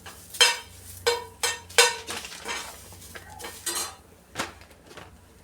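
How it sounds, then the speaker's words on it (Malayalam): A metal spatula scraping and clinking against a pan as grated coconut is stirred and roasted for a Kerala fish curry, several sharp scrapes in an irregular rhythm over a faint low hum, close and moderately loud. "നല്ലപോലെ ഇളം ചുമപ്പ് ബ്രൗൺ കളറാകുന്നത് വരെയും വറുക്കണം."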